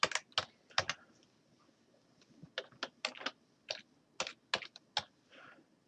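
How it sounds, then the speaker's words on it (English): Keys on a computer keyboard are struck in quiet, irregular bursts of sharp clicks, with short pauses between groups of keystrokes and no talking. "You type in the information."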